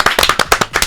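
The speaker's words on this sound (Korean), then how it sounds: "진짜 기계적으로 박수를 쳐" Hands clap in a quick, mechanical run of about eight sharp, close claps, loud and evenly spaced, with no talking over them, at the start of a Korean live news talk show.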